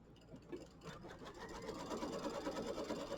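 Embroidery machine stitching a tack-down line on quilt fabric, a steady rapid needle chatter that holds close and even throughout with no talking.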